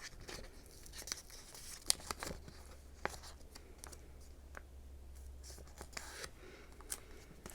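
Paper crinkles and a full-page sticker is creased as its top edge is folded over on a Hobonichi Weeks Mega planner page, making soft, close rustles with a few sharp ticks and tearing-like peels, no one talking.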